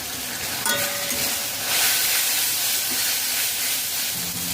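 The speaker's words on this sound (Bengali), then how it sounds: "মশলা এক মিনিট নাড়াচাড়া করে মিশিয়ে নিয়েছি" Spice masala of Kashmiri chilli powder, cumin, coriander and turmeric frying in a pan while being stirred, a steady close hiss and sizzle with occasional scraping, no voices.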